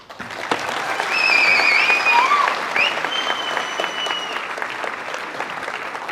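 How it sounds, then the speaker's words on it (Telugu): An audience at a National Space Day speech event bursts into applause that swells, holds strong for a couple of seconds with a few whistles, then tapers into scattered clapping. "మీరు నిజంగా వీళ్ళలో చప్పట్లు కొట్టాల్సిందే వాళ్ళకి."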